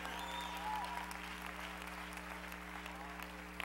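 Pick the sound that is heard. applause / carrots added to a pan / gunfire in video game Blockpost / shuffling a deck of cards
applause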